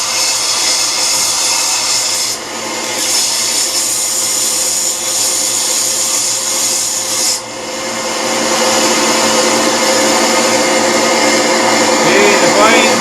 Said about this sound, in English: Now I'm going to use a sander machine to make it more smooth.